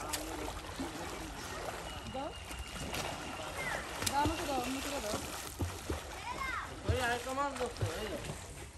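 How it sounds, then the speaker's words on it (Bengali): A child learning to swim with a bottle splashes and sloshes in a pond, with irregular splashes under frequent talking and shouting voices nearby. "এখানে বোতল দিয়ে সাঁতার শিখতেছে"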